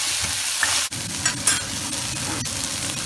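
Okra sautéing in a hot pan with salt, a dense, loud, continuous sizzle with occasional scraping strokes of a spatula, close up and with no voices.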